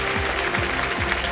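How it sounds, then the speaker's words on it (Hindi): A studio audience applauds on a TV show set, a dense, steady patter of many hands clapping, moderately loud, with no voices. "कपिल देव जी, एक बार फिर तालियों के साथ हम आपको बहुत बहुत बधाई देते हैं"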